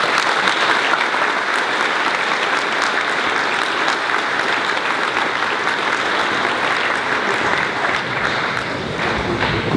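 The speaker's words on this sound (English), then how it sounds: "Can we please give these students a round of applause" Students at an Emmanuel College welcome assembly in February 2019 receiving a round of applause: a large audience claps loudly and continuously in a hall, with a dense, sustained wash of hand claps throughout.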